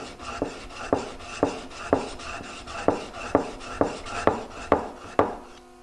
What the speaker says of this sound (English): as far as sharpening the bevel edge, it's just heel to toe